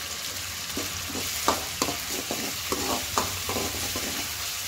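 Ginger garlic paste, curry leaves and mustard seeds fry in hot oil with a steady sizzle, broken by a series of sharp scraping stirs and occasional seed pops, close and moderately loud with no talking.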